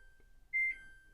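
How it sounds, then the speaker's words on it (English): A single short, high-pitched electronic error beep from a Samsung top-load washing machine sounds once at moderate volume, clean and steady, over a quiet background. "There's the beep right there"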